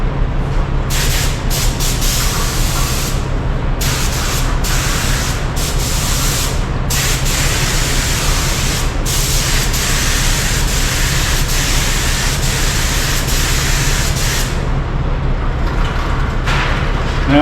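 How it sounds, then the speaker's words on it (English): A spray gun lays base coat onto a car bumper, a steady close broadband hiss that runs continuously with a few brief breaks in the trigger pulls. "I'll just go ahead and spray the base on here anyway"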